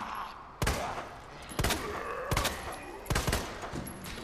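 Four loud, sharp gunshots from a handgun fired at spaced intervals in Resident Evil 2 Remake, each one a crisp crack with a short tail, set over a low background ambience.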